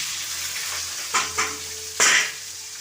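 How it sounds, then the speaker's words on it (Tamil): Steady sizzle of onion, green chilli and curry leaves frying with popping mustard seeds in hot oil, with a few bright splatter bursts as ingredients hit the pan, close and alone without voices. "வெங்காயம் பச்சை மிளகாய் கருவேப்பிலையே போட்டுக்கிறோம்"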